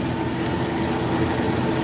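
A John Deere 3032e compact tractor mowing outdoors with a 5-foot Countyline bush hog on a cold, windy day, giving a steady, continuous engine drone with a low rumble, loud and unbroken throughout.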